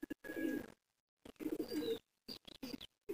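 Pigeons of the fancy domestic breeds coo close by in several soft, throaty bursts separated by brief silences.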